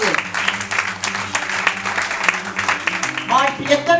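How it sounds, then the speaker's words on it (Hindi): Audience clapping at an installation ceremony, a steady burst of applause mixed with a voice talking over it, speech becoming clearer near the end. "जोरदार तालियां से लीजिए।"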